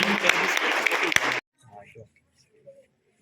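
An audience applauds students at a martial arts belt grading exam and award ceremony: loud, dense clapping for over a second that cuts off abruptly, leaving faint scattered voices.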